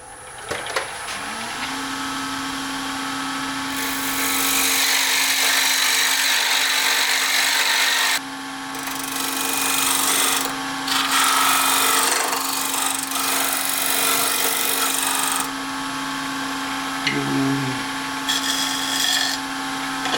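A wood lathe hums steadily while a tool cuts a tenon on a bowl blank, with bursts of harsh scraping and hissing cutting noise coming and going over the motor, close and fairly loud.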